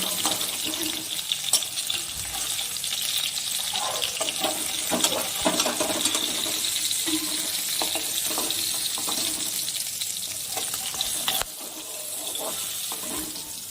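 Tengra fish fry in hot oil in a pan, a steady close crackling sizzle with occasional clinks and stirring sounds from a utensil, no speech heard.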